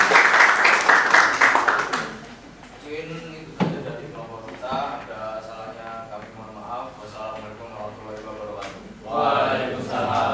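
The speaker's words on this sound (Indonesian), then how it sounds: "oke, beri tepuk tangan buat kelompok 1" Classroom audience clapping for a student group after its presentation, a short burst of applause at the start and again near the end, with a teacher talking in between.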